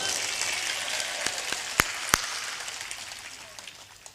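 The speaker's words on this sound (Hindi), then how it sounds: "जोर से ताली बजाओ।" Audience at a satsang clapping on request, scattered individual claps building into a modest spread of applause, with a few sharp, close claps standing out before the sound thins and fades.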